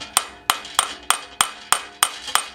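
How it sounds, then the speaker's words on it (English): A hammer strikes a 27mm socket to seat a part during a Coyote engine swap into an S550 Mustang: seven sharp metallic blows at a steady rhythm about every third of a second, close and loud with no talk. "take this 27mm socket, if I can get it in frame right there, put it on there and hit it with a hammer"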